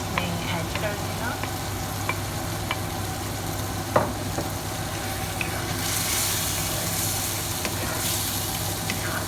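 Minced meat keema sizzles in a pan over low heat as it is stirred into fried masala, with a constant frying hiss, occasional utensil clinks and scraping, and faint water sounds.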